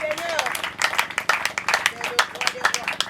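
Congregation at a national Catholic Charismatic Renewal spiritual retreat clapping and cheering in acclamation, dense rhythmic applause with voices mixed in throughout.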